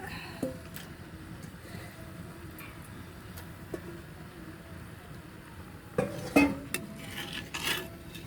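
Leftover chicken pieces tumble into a pot for a Kottayam-style chicken curry, giving a few close clattering, thudding knocks near the end after a stretch of quiet kitchen background.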